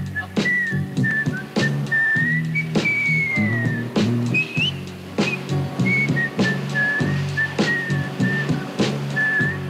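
A person whistles a melodic tune in clear, sustained phrases over background music with rhythmic beats, the whistled line staying prominent throughout.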